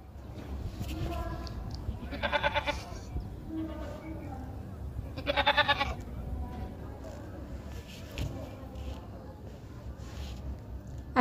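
Two loud goat bleats ring out a few seconds apart over a low rumbling background, with softer murmuring sounds in between.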